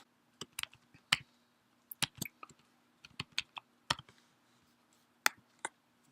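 A password typed on a computer keyboard, sparse separate key clicks in small bursts with pauses between, close and quiet over a faint steady hum.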